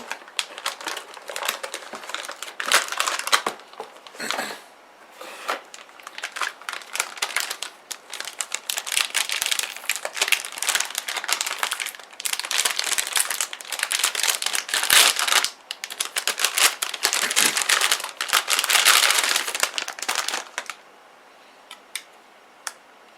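Crinkly plastic of a vacuum-sealed bag holding an Asus GeForce GTX 1050 Ti graphics card, pulled out of its cardboard box, crackles and rustles almost continuously at close range, with brief pauses and a quieter stretch at the end.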